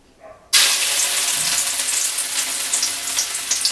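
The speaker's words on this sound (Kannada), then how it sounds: "ಇವಾಗ ಎಣ್ಣೆ ಕಾದಿದೆ. ಇದಕ್ಕೀಗ ಶುಂಠಿ ಹಾಕ್ಕೊಳ್ತಾ ಇದ್ದೀನಿ." Ginger drops into hot oil after a brief quiet moment, setting off a sudden loud, close crackling sizzle that stays steady and bubbly throughout.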